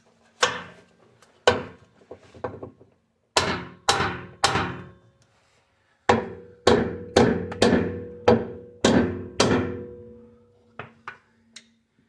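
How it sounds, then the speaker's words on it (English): A suspension part being tapped into place on a 1991 Honda Civic, heard as a dozen or so loud, sharp hammer blows with ringing decay, close and isolated, in uneven groups with brief pauses, and no voices. "Maybe if I pry up on it and give it a little tap."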